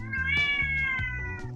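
A cat meows close by in a long, drawn-out call lasting over a second, alone with no talk over it, followed by a softer trailing note.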